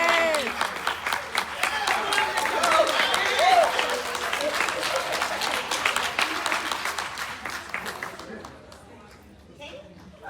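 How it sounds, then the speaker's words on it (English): An audience at a university convocation applauds as a guest speaker is introduced, sustained crowd clapping with scattered voices and cheers mixed in, gradually thinning out and fading near the end. "Give a round of applause."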